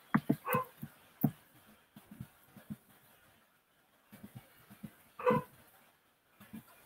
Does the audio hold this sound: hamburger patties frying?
no